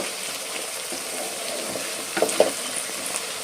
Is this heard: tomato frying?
yes